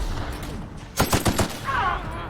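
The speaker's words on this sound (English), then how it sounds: "Felix is launching grenades" Companion Felix launching grenades in The Outer Worlds: a quick cluster of four or five loud punchy bursts close together, followed by a softer fading rumble.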